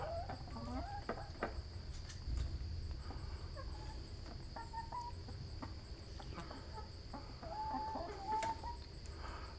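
Backyard chickens roaming in a run, clucking and calling intermittently at moderate distance over a faint steady background hum.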